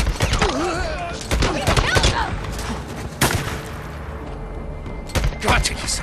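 Sniper rifle gunfire in the open-world game Days Gone: several sharp, loud shots and booming impacts spread across the scene, with a voice talking over much of it.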